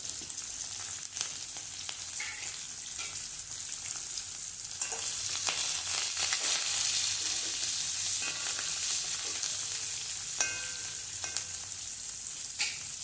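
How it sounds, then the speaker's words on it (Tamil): Onions, green chillies, mustard seeds and curry leaves fry steadily in hot oil in a pan for a Kerala-style pumpkin kootu, a continuous close sizzle with occasional stirring scrapes and no talk. "கொஞ்சம் வதங்கட்டும்"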